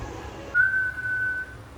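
A pressure cooker whistle gives a short, thin, steady high-pitched tone lasting about a second over low background noise, then fades out.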